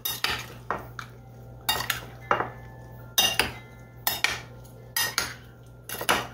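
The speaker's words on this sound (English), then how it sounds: "So let's stir this up." Metal spoon stirring water and sugar in a bowl, clinking against the sides in repeated scraping strokes, about nine close, fairly loud bursts at an uneven rhythm over a low steady hum, with no talking.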